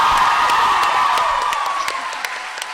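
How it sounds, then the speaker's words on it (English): A packed crowd at a New York Comic Con panel claps and cheers, with loud sustained applause and high whoops throughout. "Give these guys a huge round of applause."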